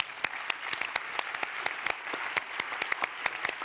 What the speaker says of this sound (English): can we have one last round of applause for these very brave souls?